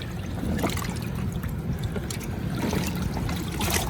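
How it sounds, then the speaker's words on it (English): Water runs off a wet alligator hide just pulled from a tanning solution and hung to drip dry on a fence. It makes a steady, close trickling and splashing wash that never stops. "So I'm gonna go ahead and pull this hide out, let it drip dry."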